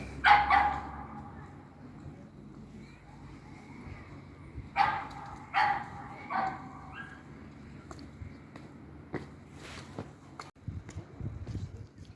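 A dog gives a few scattered barks and yips at moderate distance, separated by pauses, over quiet outdoor background noise.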